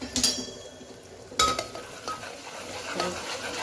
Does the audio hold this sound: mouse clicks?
no